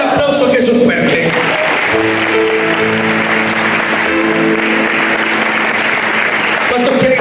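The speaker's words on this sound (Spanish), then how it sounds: "Den aplauso a Jesús fuerte" Loud congregation applause fills a Spanish-language worship service, steady dense clapping sustained across the whole stretch, with musical tones and some voices mixed underneath.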